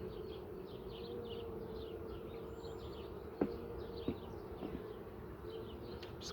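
Worker honey bees buzz steadily around a hive, a faint, continuous hum with a few soft knocks partway through.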